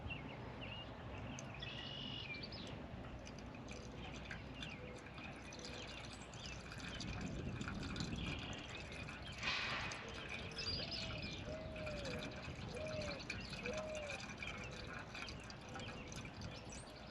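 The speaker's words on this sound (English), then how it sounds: "So now we got to add antifreeze to this one." Antifreeze is poured into a rail car engine in a quiet session of faint trickling and dripping liquid, with a few soft knocks and occasional chirps in the background.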